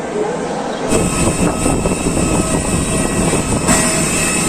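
A steady, loud engine roar from an airplane at Puerto Princesa airport in Palawan fills the whole stretch, with a brief quieter moment before the roar swells.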